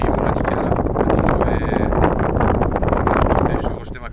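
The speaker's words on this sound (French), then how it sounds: "Il y a un peu de vent" Light wind buffets the microphone at an outdoor spot used for winter ice-cube bait fishing, a dense, steady roar throughout with faint rustling and a brief tonal whine in the middle.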